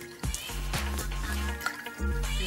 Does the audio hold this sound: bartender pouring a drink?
yes